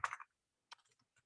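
A few quiet computer keyboard keystrokes while typing into a chat box, one brief cluster of clicks, a pause, then several soft taps, faint and close with no talking.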